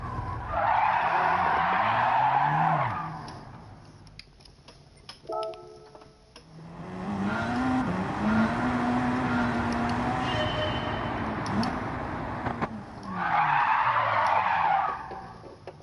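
Tyres skidding as a car slides under handbrake in Gran Turismo 7, long squealing screeches at the start and end, with a lower drawn-out slide and engine drone in the middle.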